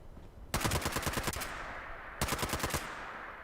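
A two-shot, faster-fire-rate handmade rifle in Fallout 76 fires two rapid bursts of about eight and six cracking shots, loud and close, separated by a short pause.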